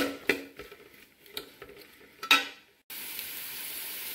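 Onions sautéing in a pan for chicken curry, a soft sizzle with scattered stirring scrapes and clinks, followed by a steadier, louder frying hiss near the end.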